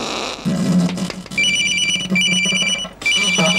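Mobile phone ringtone rings loudly in short repeated electronic bursts with brief gaps, close by, over a low background hum.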